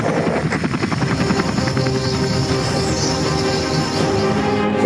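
Helicopter carrying an LRAD 1000Xi acoustic device, its rotor thumping steadily and loud throughout, with a continuous engine drone and a faint high whine over the dense low pulsing.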